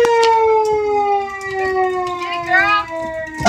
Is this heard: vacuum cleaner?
no